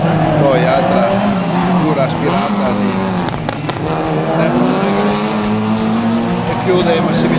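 Formula race cars warming their tyres while waiting for the start at an Italian circuit, a continuous engine drone with rising and falling pitch as the cars move, under a commentator's voice.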